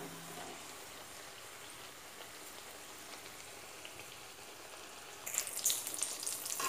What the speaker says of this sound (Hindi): इसको अच्छा सा क्रिस्पी होने तक हम फ्राई कर लेते हैं।